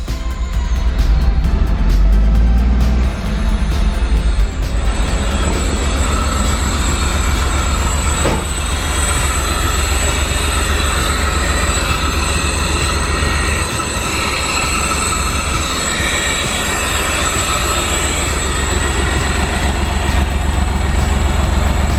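A Pontiac Fiero-based kit car, revived after sitting abandoned for 15 years and running on old fuel, idles with a loud, steady low rumble and a faint whine riding on top, unbroken throughout.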